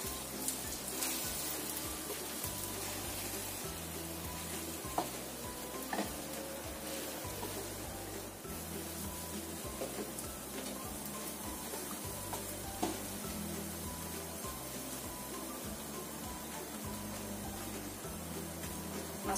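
Food sizzling steadily in a frying pan after being flipped, a constant close crackle over a repeating low rumble, with occasional sharper pops and no talk.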